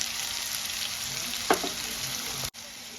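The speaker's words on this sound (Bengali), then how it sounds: "আলু আর ডাঁটাটা আমার খুব সুন্দর ভাজা ভাজা হয়ে গেছে।" Potatoes and vegetable stems fry in a pan, a steady close sizzle throughout with a faint knock of stirring midway and no talking.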